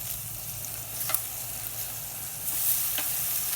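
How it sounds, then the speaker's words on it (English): Thin sirloin steaks sizzle over the fire of a STOK drum grill, a steady close hiss of frying fat with a couple of faint pops and a brief swell near the end, no talking. "About time to flip these sirloins."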